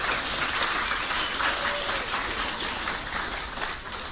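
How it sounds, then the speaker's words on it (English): An audience claps for a presenter at an electric seaplane design launch, a dense, even patter of hands holding steady at moderate volume for several seconds before easing slightly at the end. "Give him an applause."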